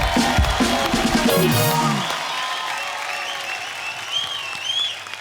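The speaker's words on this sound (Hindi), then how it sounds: "एक बार जोरदार तालियां कटरीना कैफ के लिए।" A studio audience at a comedy talk show claps loudly for Katrina Kaif. A voice speaks briefly at the start, then dense applause carries on alone and slowly fades a little.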